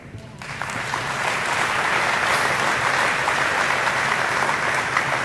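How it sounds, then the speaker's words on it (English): Sustained applause from an audience fills the whole stretch, steady and dense after a brief quieter start. "you all should give yourselves an applause for that."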